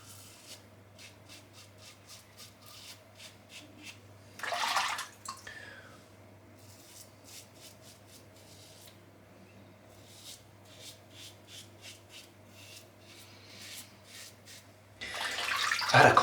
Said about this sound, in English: Now this is a zero prep shave.